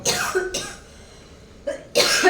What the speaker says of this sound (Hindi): इतना तेज फोरन देले बा डार्लिंग कि खांसीए आवता, खाली खांसी